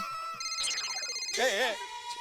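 A mobile phone ringtone in a TV sitcom scene plays an electronic melody with rising and warbling tones, fairly loud and close, for a couple of seconds.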